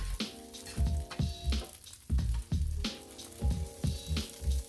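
Egg and rice frying in a cast iron pan with sesame oil, a close sizzle that flares in repeated bursts as food is stirred and tossed, with no talk.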